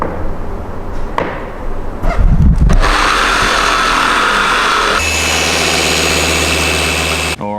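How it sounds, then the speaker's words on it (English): A polishing machine buffs the paint of an Audi RS6, loud and close, with clattering handling noises at first, then a sustained steady whine that shifts pitch midway and stops abruptly near the end. "this is exactly why we go through this stage of buffing the paint to try and get out problems exactly like this"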